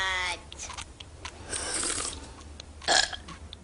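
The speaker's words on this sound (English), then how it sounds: "We're having a burp contest, Mom." Burps ripple out during a family burp contest, a short croaky belch at the start followed by a longer gurgling one and a final rough burst near the end, fairly close and with no talking.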